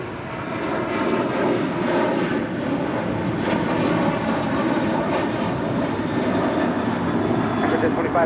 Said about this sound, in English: Air France A350-900 taking off to Paris